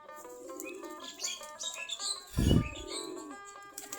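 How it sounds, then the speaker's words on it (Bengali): Native Giribaj pigeons outdoors give soft chirps and calls, with a sudden loud burst of flapping wings in the middle before the calling resumes. "সবগুলা আমাদের দেশি জাতের কবুতর, আমাদের দেশি গিরিবাজ কবুতর।"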